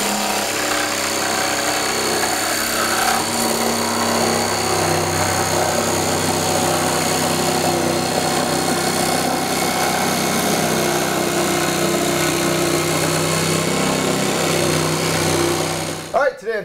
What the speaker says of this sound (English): we're going to go over a budget jigsaw